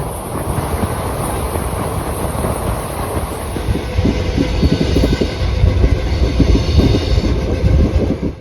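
Indian Railways Darbhanga–Ajmer Daurai special train running between Raxaul and Gorakhpur, a steady loud rumble of coaches with rhythmic clickety-clack of wheels over rail joints throughout, heard from on board with no talking.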